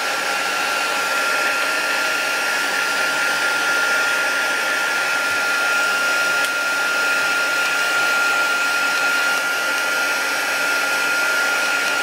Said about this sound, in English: can you hear that? That's my broken heat tool